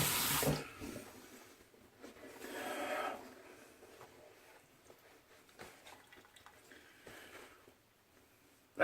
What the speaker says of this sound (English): Let me get rinsed off here.